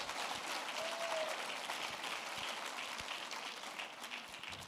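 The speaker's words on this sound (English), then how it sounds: "A big round of applause." Sustained applause from a large audience at a talent show finals, steady and dense throughout with no pause.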